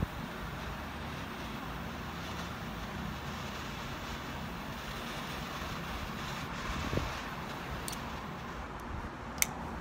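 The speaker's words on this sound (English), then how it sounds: "It's kind of a little bit windy" Steady wind rushes and rumbles across the microphone outdoors while lighting a cigar, a constant low roar with a couple of brief sharp torch-lighter clicks near the end and no talking.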